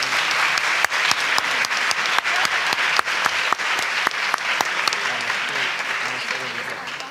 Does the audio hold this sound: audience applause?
yes